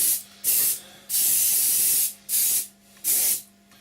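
An airbrush at about 30 psi mists a light coat onto a B-24 scale model in quick bursts of hiss, four or five short sprays with brief pauses between them, close and fairly loud.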